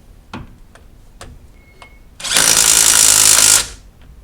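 A power tool zips bolts into a CV axle install, first a few light ticks and clicks, then a loud, steady burst of about a second and a half that cuts off sharply.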